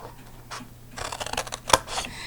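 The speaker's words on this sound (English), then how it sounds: "What we're going to do with our paper snips is to trim the squares" Paper snips trimming paper squares for a folded box, a few soft close crisp snips and paper rustles, ending in one sharp louder cut, no talking.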